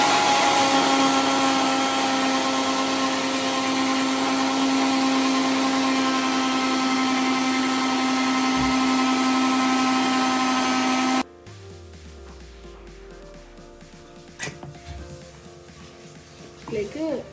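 A kitchen blender beats eggs, yogurt and sunflower oil with a loud, steady, whining motor hum for about eleven seconds, then cuts off abruptly, leaving quieter clinks and handling noises.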